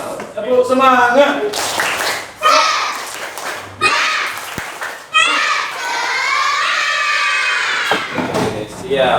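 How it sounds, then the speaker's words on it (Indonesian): A class of young children in a combined grade 2 and 3 primary classroom claps and chants together in rhythm, loud and close, with bursts of group voices between the beats. "Tepuk semangat."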